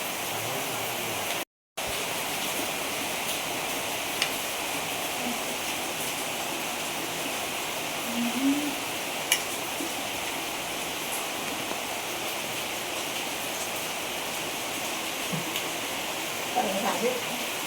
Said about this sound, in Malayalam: പുറത്ത് നല്ല മഴയാണ് കേട്ടോ.